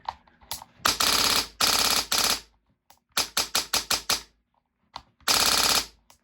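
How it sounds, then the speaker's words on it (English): An HPA-powered airsoft gun fitted with a mock suppressor fires in loud, close bursts of rapid shots, several full-auto strings and short volleys separated by brief silences. "make sure it's all firing okay as it should be."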